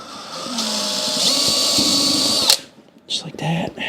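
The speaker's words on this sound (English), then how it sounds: "So I'm drilling 4 holes in it." Power drill boring holes into a board on a table, a loud steady whine of about two and a half seconds that cuts off abruptly, followed by brief shuffling and handling noises.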